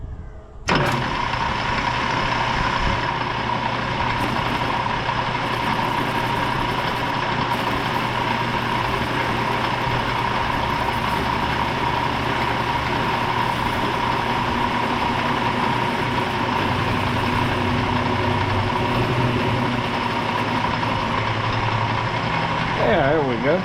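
A lathe cutter machines an outboard motor shaft in a workshop, a steady, loud mechanical whir and grind that runs continuously for over twenty seconds before stopping abruptly, with some faint voice in the background.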